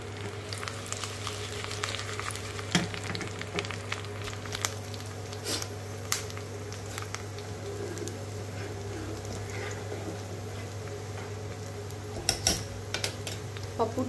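Dried red chillies frying in a pan for pappu gongura give a soft, steady sizzle with occasional sharp crackles and pops, fairly quiet under a constant low hum.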